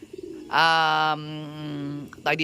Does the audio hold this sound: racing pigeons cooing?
yes